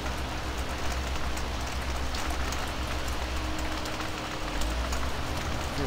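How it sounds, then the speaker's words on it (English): Heavy rain falling steadily on a farm, a constant loud hiss with a low rumble beneath it, no voices. "Raining pretty hard now,"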